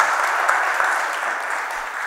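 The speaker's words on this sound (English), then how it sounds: "I think that deserves a round of applause." An audience applauds an 11-year-old published author at a children's writing session of a literature festival, a steady dense wash of clapping held at an even level throughout, without voices.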